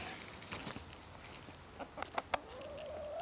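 Backyard chickens kept for eggs on a smallholding cluck softly in short, scattered bursts at a moderate distance, with faint outdoor background noise throughout.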